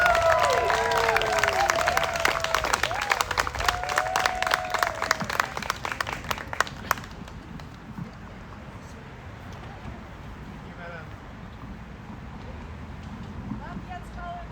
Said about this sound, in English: Please make a loud round of applause.